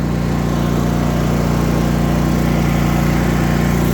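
Toro Titan ZX4800 zero-turn riding mower with a 48-inch deck, its engine idling smoothly and steadily, loud and close throughout with a constant low hum and no other sounds.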